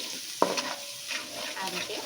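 Garlic sautés in a pan for garlic sev mamra, with a continuous bright sizzle under stirring scrapes and one sharp utensil knock near the start.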